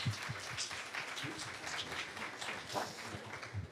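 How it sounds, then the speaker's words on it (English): Audience applause for a speaker introduced at a games-industry investment pitch event, steady dense clapping throughout, moderately loud with a faint murmur of voices underneath. "Applause, please."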